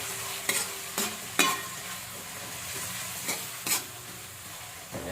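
Onion, garlic and tomato sauté in a pan with a quiet steady sizzle, broken by several sharp scraping stirs and clanks of a utensil against the pan, with no voices.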